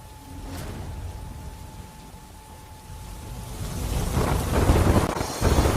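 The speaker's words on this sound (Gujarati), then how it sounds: "વરસાદ શરૂ થતાં વાતાવરણમાં ઠંડક પ્રસરી છે" Rain falls steadily in Gujarat, with low thunder rumbling beneath it. The downpour builds noticeably louder over the last couple of seconds.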